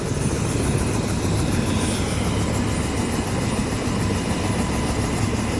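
A helicopter sits near a dam on an Adirondack mountain trail while firewood is unloaded, its engine and rotor giving a loud steady roar with a fast rhythmic chop running through it and no talking.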